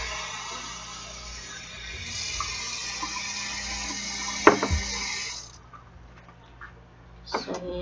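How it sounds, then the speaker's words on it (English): Tap water runs steadily into two cups at a kitchen sink, a continuous close hiss and splash that stops abruptly near the end, with a brief clink partway through. "have 2 cups filled with water."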